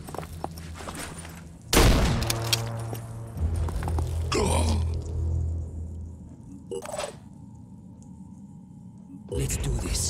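Gunfire in the tactical strategy game Phoenix Point: a sharp loud shot burst near the start, then further scattered shots and impacts over game music and ambience, with a later burst near the end.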